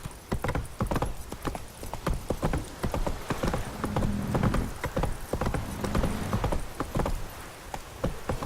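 Roach, a horse in The Witcher 3 video game, walks along with steady, close clip-clopping hooves in an even rhythm, with a brief whinny-like sound partway through.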